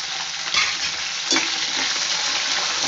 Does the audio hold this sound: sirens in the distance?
no